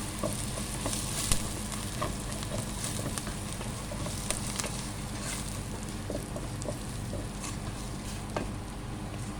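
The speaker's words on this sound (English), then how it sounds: "And now saute the onions" Onions sautéing in a pan for spinach sambar, a continuous even sizzle with faint scattered crackles and occasional stirring clicks, close and steady with no talk.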